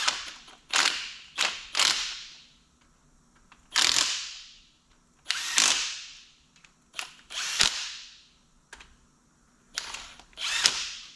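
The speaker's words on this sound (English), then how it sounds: "Now we're just going to snug them up with the impact." An impact wrench snugs up cylinder head bolts on an engine, firing in about a dozen short loud bursts separated by brief pauses, with no talking.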